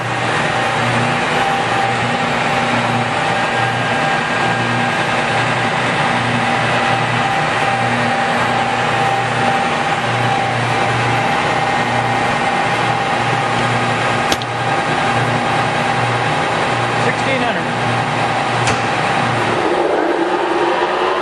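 A Cincinnati #3HD horizontal mill spindle runs smoothly near top speed, giving a steady, loud mechanical hum with constant tonal whine and low drone throughout, which drops in pitch near the end as it winds down.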